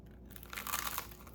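Crunchy food being chewed close up, a dense crackling crunch that starts after a brief quiet moment and continues steadily.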